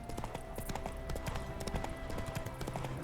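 Hooves of Roach, Geralt's horse in The Witcher 3, clip-clopping in a quick steady rhythm close by, with brief whinny-like tones and game ambience behind them.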